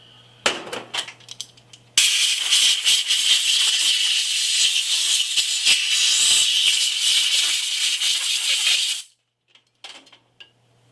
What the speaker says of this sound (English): So we'll just brake clean or carb clean this out.